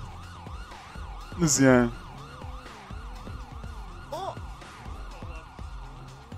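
Police sirens wail continuously during a bank robbery in a video game, their rising and falling tones running steadily under a brief spoken exclamation and other game sounds.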